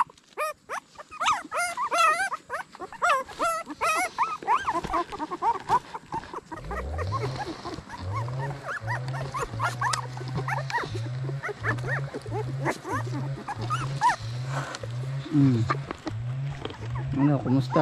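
Wild dogs and young puppies whimper and yelp in high, wavering cries at feeding time, joined by a deep repeated growling roar, all close and busy under a person talking.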